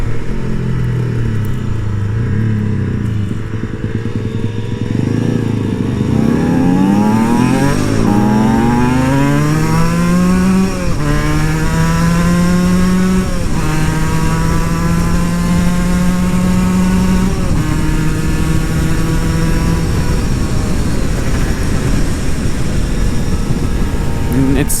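An Aprilia SX-125 two-stroke supermoto engine rises and falls through the revs while riding, its buzzing harmonics sweeping upward through gear changes, loud and close with wind rush throughout.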